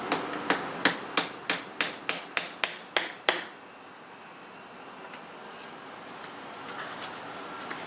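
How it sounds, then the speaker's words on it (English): Metal tapping on a Honda 350 twin's starter motor: about a dozen sharp, evenly spaced taps in quick succession, close and crisp, followed by quiet workshop background. "Tap this top, just a little corner."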